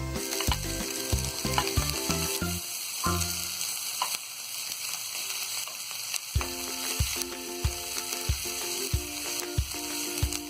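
Steady sizzling of garlic and ginger frying in a hot pan, continuous and close, with occasional clinks and scrapes of a utensil.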